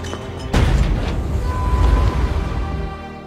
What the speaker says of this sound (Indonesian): Sheriff itu malah memutuskan untuk meledakkan dirinya dengan menggunakan sebuah granat lempar yang ia bawa.